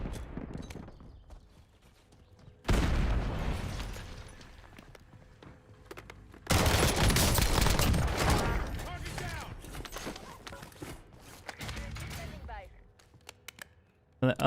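In Call of Duty: Warzone on the Verdansk map, a grenade explodes with a loud burst, followed by a long stretch of rapid gunfire. Quieter in-game noise fills the gaps before and after.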